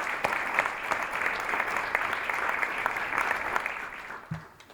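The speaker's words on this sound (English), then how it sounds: "I think we need to give them another round of applause for all they do" A breakfast crowd at the Junior Achievement of Utah Governor's Breakfast gives the JA team a round of applause, a full, steady clapping that holds at even volume, then thins and fades out near the end.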